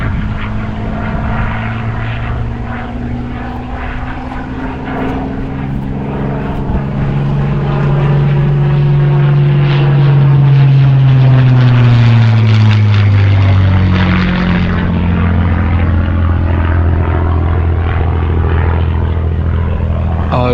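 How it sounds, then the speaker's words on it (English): A Spitfire flies a display at an air show, its propeller engine droning loud and steady with a pitch sweep as it passes overhead, continuous throughout with no voices. "Spitfire flying display."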